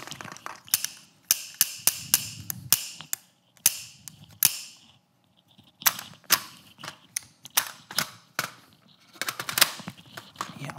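Sharp, close taps and scratchy clicks on a Streamlight HL tactical flashlight come in dense irregular clusters, loud and crisp, with a brief quiet gap midway and no talking.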